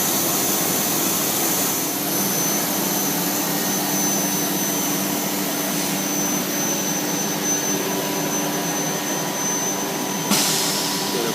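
A CNC machine runs with a steady, loud whirring hum during a tool change between end mills, ending in a brief sharp clack near the finish.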